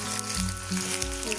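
Chopped onions and green chillies sizzle in hot oil in a pan as the base for a brinjal curry. The frying hiss is steady and close, with no one talking over it.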